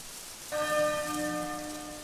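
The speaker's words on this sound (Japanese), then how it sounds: "また鐘か。" A church-style bell rings out once in Octopath Traveler II, a clear, resonant strike that then hangs and slowly decays over a soft rainy ambience, with no talking.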